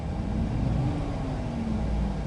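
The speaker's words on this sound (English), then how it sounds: "Give her a couple revs." A 2018 Chevy Silverado 1500 engine with a suspected misfire and loss of power, revved in a steady, sustained low rumble that stays close and loud throughout, with no talking.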